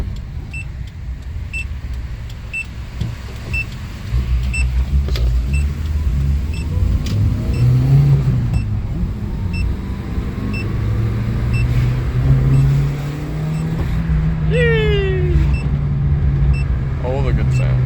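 A car's engine rumbles and revs up sharply for a rev-matched downshift, with an abrupt on-off clutch, heard from inside the cabin over steady road rumble while people talk.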